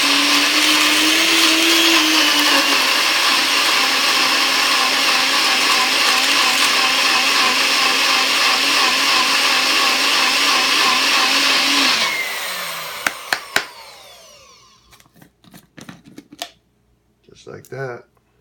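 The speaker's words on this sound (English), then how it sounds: "You can use a Vitamix, NutriBullet, any high-speed blender that it'll all fit in." A high-speed blender such as a Vitamix or NutriBullet roars loudly and continuously while whipping up a fruit salad mixture, its motor pitch wavering, then winds down to a stop followed by a few clunks and knocks.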